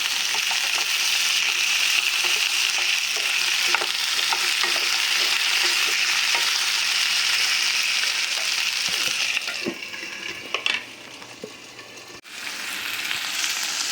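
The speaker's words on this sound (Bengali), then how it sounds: "আলুগুলো ভেজে নিই।" Potatoes frying in hot oil make a loud, continuous sizzle throughout, thinning slightly near the end with a few stirring knocks and pops.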